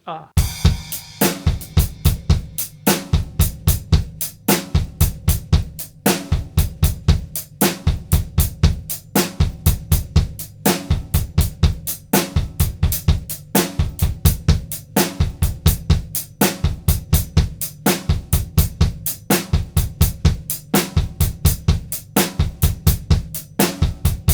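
A drum kit plays a repeating triplet shuffle pattern, steady thumping bass drum with crisp cymbal and snare hits, loud and close.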